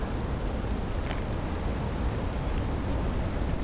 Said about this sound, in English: it's pouring rain right here because of the condensation of the fog in the trees